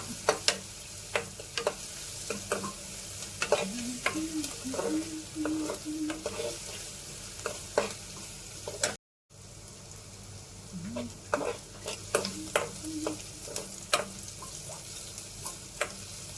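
Onions with a pinch of salt sautéing in a pan, a steady soft sizzle broken by repeated scraping stirs, close and moderate in level, with a brief dropout midway.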